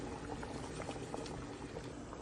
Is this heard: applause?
no